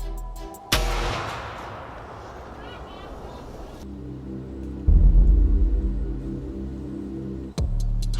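A homemade cannon fires: a sudden loud blast bursts out, followed by a long rushing roar, then a second heavy boom with rumbling; voices chatter in the background.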